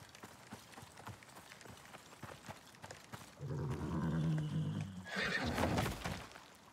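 A horse whinnies loudly in the game ICARUS, layered with galloping hoofbeats and a second sharper neigh, over a low background hum.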